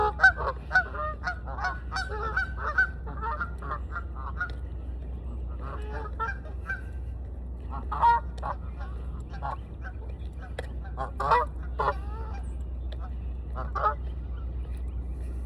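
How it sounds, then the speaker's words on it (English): Ducks honking repeatedly in loud, irregular bursts across the whole stretch, some calls close and some farther off, over a steady low rumble of background hum with occasional voices in the distance. "These ducks."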